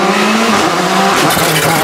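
A rally car accelerates away on a stage, its loud engine rising in pitch over a couple of seconds, close and unbroken, with no voices.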